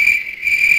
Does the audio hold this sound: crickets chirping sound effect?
yes